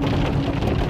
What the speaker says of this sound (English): How appropriate that we have the rain.